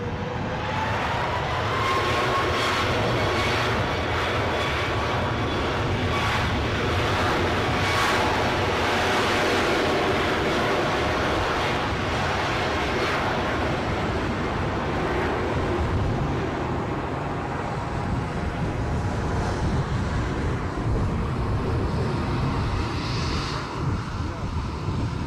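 A jet aircraft roars steadily while taking off at a gusty Edinburgh airport, a loud, sustained broadband rumble mixed with wind buffeting the microphone throughout.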